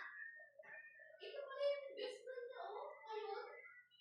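A cat meows several times inside a Minecraft-style video game, drawn-out mid-pitched calls that sound near, with a voice around them.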